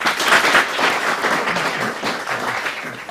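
A crowd applauds at an inter-mine first aid and safety competition, sustained dense clapping that swells early then holds steady, fairly loud and close.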